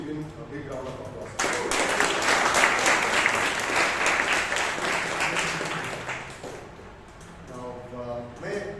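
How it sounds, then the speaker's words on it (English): Audience applause at a Toastmasters club meeting in Bangalore, a loud burst of clapping from a room full of people that starts abruptly, holds steady for several seconds, then thins out as voices return. "I request all of you to please give him a big round of applause."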